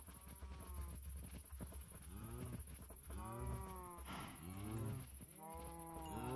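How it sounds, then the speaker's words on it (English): Several cows in Minecraft moo one after another, with drawn-out, overlapping lowing calls that stay quiet and somewhat distant throughout. "Come along, little cows."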